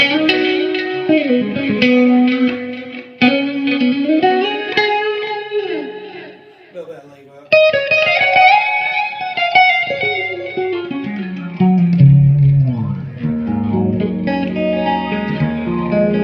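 Electric guitar chords ring out one after another through outside cabs, washed in swirling phaser, echoing delay and reverb, with long sustained tails between strums.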